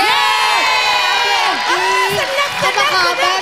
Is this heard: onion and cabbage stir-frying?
no